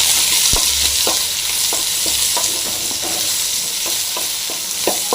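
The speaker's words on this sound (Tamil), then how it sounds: "வெங்காயம் ஃப்ரை ஆகிட்டு வருது" Onions fry in oil for mutton intestine varuval with a loud, steady hiss. Regular spatula taps and scrapes against the pan sound close up, with no voice.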